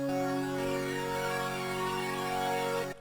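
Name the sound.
airy synth chord from Haunted sound bank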